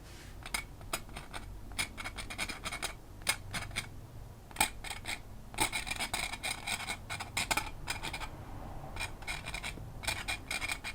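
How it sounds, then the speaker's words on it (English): Paint is scraped with a tool to form tiny sticks and twigs in a painted storm landscape, giving short dry scratchy rasps in quick irregular bursts, close and fairly quiet, with no talking. "let's scrape in some tiny sticks and twigs."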